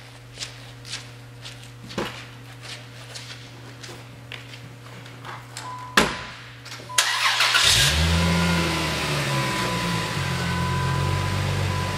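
A Chrysler Prowler engine cranks and catches at about six seconds, then settles into a loud, steady idle and rev as the car pulls away, with faint footsteps and shuffling before the start.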